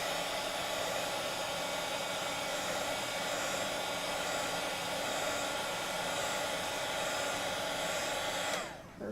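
Heat tool blowing hard to speed-dry orange ink on a spooky handmade card, a loud, steady airy roar held for several seconds before switching off at the end.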